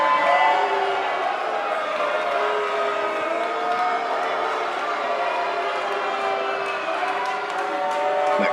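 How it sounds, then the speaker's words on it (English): Crowd booing and jeering echoes through a small high school gymnasium in Tucson, Arizona, during an NCW independent wrestling show; a steady, sustained din of many voices fills the hall with no break. "you can hear the boos echoing all throughout this small high school gymnasium in Tucson, Arizona"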